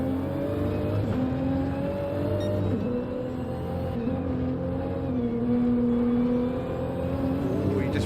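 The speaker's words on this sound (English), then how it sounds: "Quick downshift there to 2nd gear." A race car in Gran Turismo 7 at Brands Hatch, its engine droning steadily close up, then dipping and rising in pitch as it downshifts into second gear, with faint commentary underneath.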